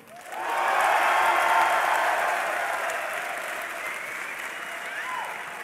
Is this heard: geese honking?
no